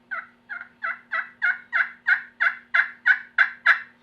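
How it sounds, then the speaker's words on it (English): A ROOST EasyStrike slate pot turkey call produces about a dozen soft, evenly spaced yelps, close and clear, growing slightly louder through the series over a faint steady hum. "a slate call can be really nice for making much softer tones"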